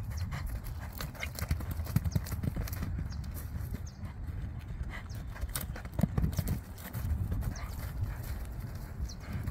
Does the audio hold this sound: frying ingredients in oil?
no